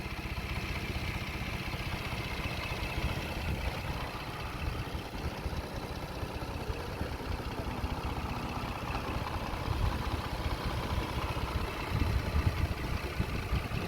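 A Toyota 3.3-litre 3MZ-FE V6 idles steadily after a timing belt replacement, a smooth, even hum with faint mechanical clatter running continuously at close range.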